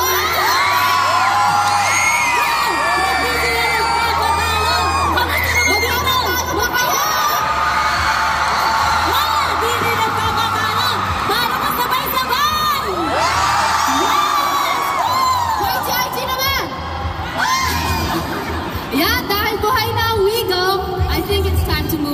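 A dense, continuous crowd of fans shouts, whoops and cheers loudly at an indoor concert during a tour stop at a shopping mall, sustained throughout at close range.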